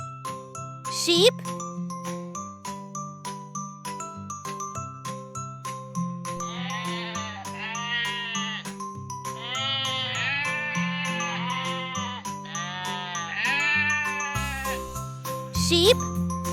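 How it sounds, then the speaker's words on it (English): Cartoon-style sheep bleats from a toddler farm-animals lesson, several wavering bleats in a row over a steady jingly music bed, fairly close and clear, ending with a brief sliding tone. "Sheep."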